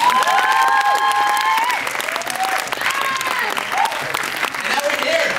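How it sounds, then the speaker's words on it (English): Steady crowd applause at a private documentary screening fills the space, dense clapping with scattered cheers and whoops over it, loud and sustained throughout. "Give a big applause for that"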